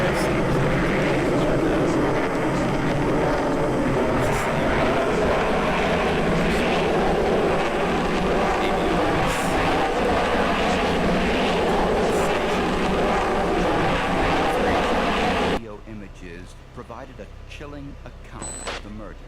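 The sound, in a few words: airplane flying overhead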